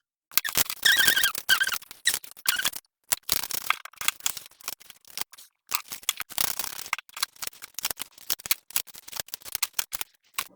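Tarot cards are shuffled and drawn by hand, with quick papery riffles and snaps coming in irregular close bursts separated by short silences.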